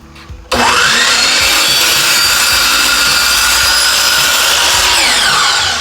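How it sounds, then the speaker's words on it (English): A miter saw tilted to a 20-degree bevel bites into wood for a roof-slanted top wall, starting with a sharp spin-up and then holding a loud, steady, close-up whine and rasp for several seconds. "I just tilted my miter saw to 20 degrees and now we've got that angled cut"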